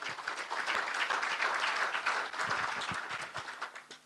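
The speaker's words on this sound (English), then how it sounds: "Please join me in giving a very heavy round of applause to the moderator and the rapporteur" A conference audience at a general session applauds steadily, with dense clapping throughout and a few louder individual claps standing out near the end.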